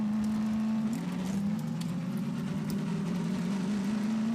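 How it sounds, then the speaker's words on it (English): A car engine in a Half-Life game drones steadily with a buzzy, motorcycle-like tone whose pitch dips briefly and then rises again. "Why does the cars sound like a motorcycle?"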